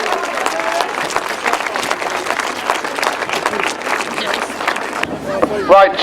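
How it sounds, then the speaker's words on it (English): A crowd applauds a rider, Chris Holder, at a 2013 world team longtrack championship, giving dense, sustained clapping with crowd murmur that drops off near the end, where a voice comes in. "Give it a big round of applause"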